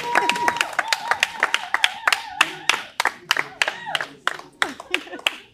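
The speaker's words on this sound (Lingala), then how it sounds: "Bobeta maboko quand même." A studio audience at a Congolese dating show claps their hands in a burst of loud, sharp, closely spaced claps that keep going steadily, with some voices mixed in.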